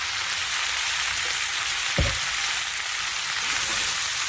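Chili powder, salt and spices fry in a pan with a steady, close sizzle, and a single stirring scrape comes midway; no one speaks.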